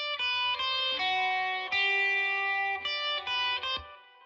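Electric lead guitar run through a Tone King Imperial amp simulation plays a flowing melodic phrase of sustained, slightly driven notes with brief re-attacks, full and close, with no talking.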